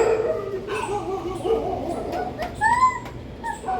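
A dog whimpers and yips softly in short whiny calls at close range, a few rising whines over a quiet background.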